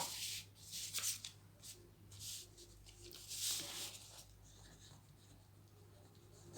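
Chalk or marker strokes scratching across a board during a classroom lecture, coming in short irregular bursts with brief pauses between them, fairly faint against the quiet room with no one talking.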